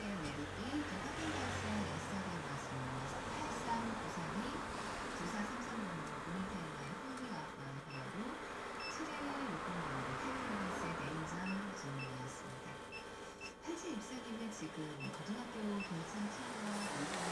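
A car air conditioner refrigerant recharge machine for a Hyundai Trajet runs steadily, a low continuous mechanical hum and whir with faint ticking, quiet and unbroken throughout.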